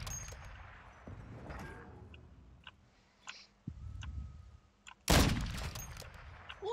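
A sharp crack of enemy armor breaking in Call of Duty Warzone hits loudly near the end, following scattered gunfire, clanks and quieter game noise.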